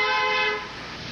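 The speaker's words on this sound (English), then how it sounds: "a car came flying up the ramp, honking its horn and flashing its lights." A car horn blares in a long, loud sustained tone as the car speeds up a ramp with lights flashing, then drops to a lower, quieter level partway through.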